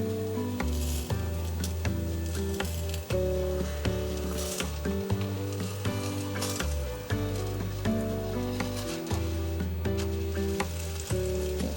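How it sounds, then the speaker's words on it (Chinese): A vegan patty of cabbage and shiitake mushroom fries in a hot non-stick pan as its second side browns. The sizzle is constant and close, with tonal background music throughout. "另一面让它继续煎成金黄色"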